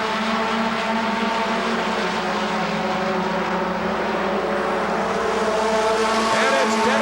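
Short track stock cars roar steadily past at Rockford Speedway, a continuous loud engine drone with shifting pitch, mixed with crowd ambience and a public-address announcer speaking over the racing.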